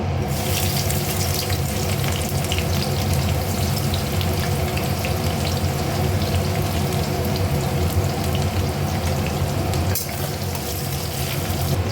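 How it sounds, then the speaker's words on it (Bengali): Chopped onions frying in plenty of oil for chicken rosha, a steady dense sizzle that stays loud and unbroken throughout, with no talking. "পেঁয়াজটা গোল্ডেন ব্রাউন করে ভেজে নেব"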